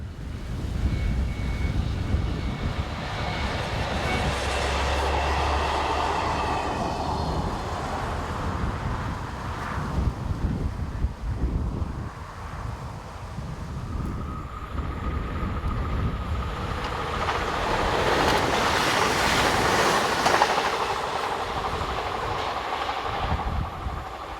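Trains run past on the Mâcon to Chalon-sur-Saône main line in France, a loud, sustained rush of passing rail traffic with a rumbling swell that eases midway, then builds again as another train goes by close.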